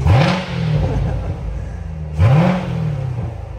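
A 2016 Corvette Z06 2LZ coupe with an automatic transmission idles loudly nearby, then revs sharply twice and the engine note sweeps up and falls back each time.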